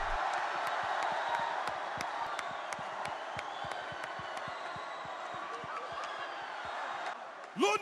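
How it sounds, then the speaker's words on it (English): A London crowd at a press conference for True Geordie claps and cheers at a moderate distance, a steady patter of applause that swells and then fades, with a voice speaking over it. "Ladies and gentlemen, a big London round of applause for True Geordie."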